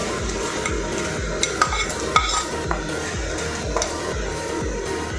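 Spices are stirred into hot mustard oil in a handi for mutton, heard close up as a loud, busy sizzle broken by rhythmic scraping strokes and a few sharp clinks of a spoon against the pot.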